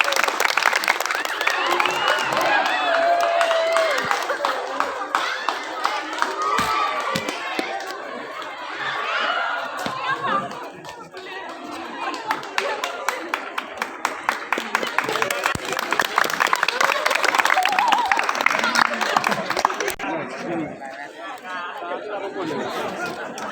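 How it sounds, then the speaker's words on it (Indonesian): Audience at an NU Lengkong Santri Day ceremony clapping in a loud, sustained burst of applause mixed with crowd chatter and voices, swelling and dipping across more than twenty seconds. "Tepuk tangan meriah buat PAC Lengkong."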